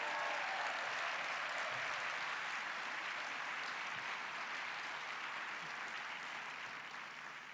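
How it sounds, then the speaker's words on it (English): A large audience applauding at an annual meeting's opening session, a broad, steady roar of many hands clapping that holds for several seconds and slowly fades, with no speech over it. "please give these new folks a great round of applause"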